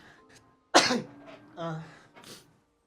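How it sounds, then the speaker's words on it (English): A sharp, explosive sneeze bursts out, followed by a short breathy vocal sound and a faint sniff. "I'm gonna sneeze."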